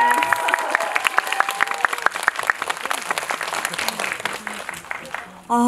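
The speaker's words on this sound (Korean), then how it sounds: "지금 박수 소리가 그렇게 크진 것 같진 않아요" Audience applause fills a cinema hall after a screening of the film 설계자, with dense steady clapping throughout, overlaid by a voice and tonal sounds, ending in an abrupt louder burst.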